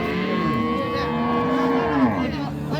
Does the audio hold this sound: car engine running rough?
no